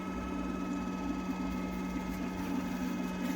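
Heng's Vortex II replacement fan running on its low setting, a steady even hum with a faint whirring drone, constant and unbroken with no talk.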